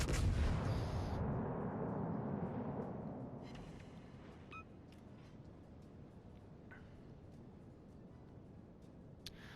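Naval guns firing semi-armor-piercing rounds in World of Warships against a Russian destroyer: a loud booming roar that decays over a few seconds into a low rumbling bed, with faint scattered pops and cracks afterward.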